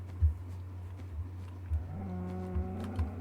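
A cow in Minecraft Beta 1.7.3 lets out one drawn-out, fairly clear moo in the second half, over a steady low background hum, with no talking.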